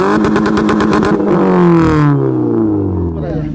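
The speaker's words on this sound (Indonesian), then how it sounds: "Oke, ini suara knalpotnya." Exhaust of a modified 2018 Toyota Calya Type G, revved loud and close: a pulsing engine roar that sweeps down in pitch as the revs drop, then settles to a lower, steadier rumble.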